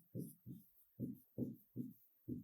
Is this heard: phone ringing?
no